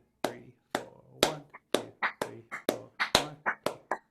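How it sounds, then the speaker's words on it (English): Hands clapping in a steady count, about a dozen sharp, close claps in even rhythm with short pauses between groups, alone without voices. "let's clap all 4 beats"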